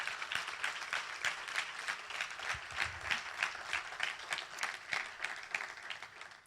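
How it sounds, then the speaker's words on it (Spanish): Church congregation clapping in a rhythmic, unified beat, many hands striking together in regular pulses with a faint roomy crowd murmur underneath. "¿Puedes darle un aplauso al Señor?"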